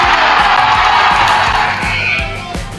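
Loud crowd cheering and yelling at a varsity basketball game, a dense roar of voices from the stands and bench with a few sharp thumps from the court.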